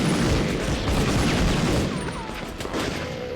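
Sustained SMG fire in the shooter game Deadlock, a dense, continuous rattle of rapid shots with booming impacts that eases slightly toward the end.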